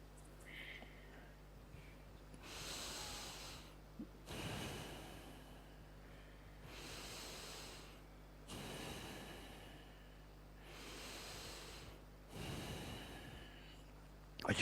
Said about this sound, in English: Now the breathing exercise, breathing meditation, 5 minutes.